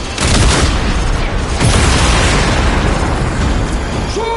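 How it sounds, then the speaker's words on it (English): In the Warframe video game, a shot valve releases pressure with a loud, sustained explosive roar and rumble that fills the whole moment, with a faint electronic chirp near the end. "Shoot the valve to release pressure."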